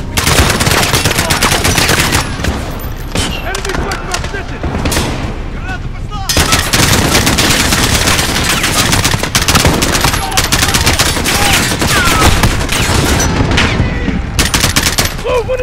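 Continuous loud machine gun fire and dense gunshots in Call of Duty: Modern Warfare gameplay, relentless bursts layered with explosions and shouted voices throughout.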